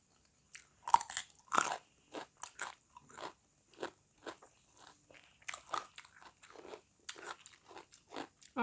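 Someone bites and chews Thai kanom jeeb dumplings with fresh raw vegetables close to the mic, with repeated crisp crunches and wet chewing in irregular bursts separated by short pauses.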